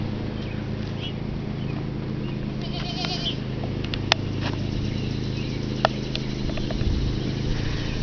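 Goats bleat faintly in a farm's goat pen, a few soft calls over steady background noise with occasional sharp clicks.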